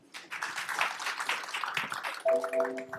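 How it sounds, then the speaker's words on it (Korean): An audience at the October 2014 Go Venture Forum in Korea applauds to welcome a speaker onstage, a steady burst of clapping lasting about two seconds before a sustained tone and voice take over at the end. "큰 박수로 모실게요"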